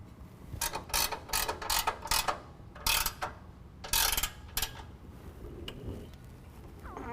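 Ratcheting bursts from a wrench tightening crossmember bolts on an N-Fab M-RDS prerunner front truck bumper, several quick clicking runs in bursts with short pauses, close and fairly loud, no talking.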